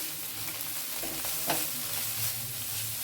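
Spices frying and being stirred in a pan for a Bengali cabbage muitha, with a steady close sizzle and a few scraping stirs over about three seconds.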